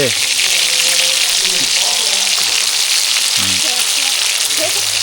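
Fish fries in a pan in a home kitchen with a loud, continuous sizzle and crackle close up, while voices talk faintly underneath.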